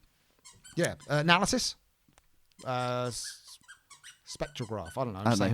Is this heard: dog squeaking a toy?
yes